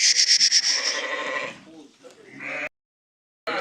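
Sheep bleat loudly and close by in a quick run of repeated calls, with livestock sounds and people talking over them before the sound briefly drops out.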